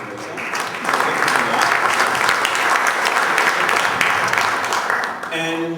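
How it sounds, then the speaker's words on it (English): Audience at a social connections event applauding the sponsors, a swelling burst of dense, loud clapping from a large crowd that holds steady for several seconds before fading, with a voice starting at the end. "So I want to give them a round of applause now."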